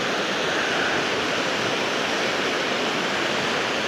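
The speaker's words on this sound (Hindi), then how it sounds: "नदी का आवाज़ सुनकर काफ़ी सुकून मिलता है" A river at Toorsa rushes steadily as a dense, loud, unbroken wash of flowing water with no breaks or voices.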